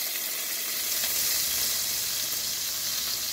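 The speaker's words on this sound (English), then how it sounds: "Now I'm gonna add some cooking wine." Cooking wine goes into seafood already cooking in a hot pan, giving a loud, steady hissing sizzle close by that stays strong and continuous without any talk.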